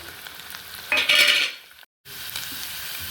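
Green chilies hit hot sesame oil in a pan and burst into a loud, close sizzle that swells, then fades, breaks off for a moment and returns as steady frying.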